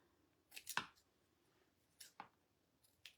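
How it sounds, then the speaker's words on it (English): Scissors snipping loose threads on a handmade fabric Santa ornament, a few quiet close snips with short bursts, the first cluster strongest, then two fainter cuts later; no talking. "These scissors aren't wanting to cut it."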